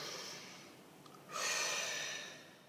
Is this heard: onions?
no